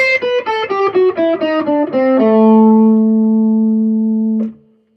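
A bright electric guitar plays a quick descending pentatonic run of single notes with a blues note, then holds a final low note that rings out before being cut off.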